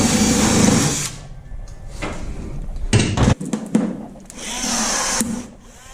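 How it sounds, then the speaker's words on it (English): Power tool bursts while riveting side rails onto a 1542 Jon boat, several short whirring runs separated by pauses and a few sharp clacks, close and loud. "Just make sure you hold it firmly and put your rivet in."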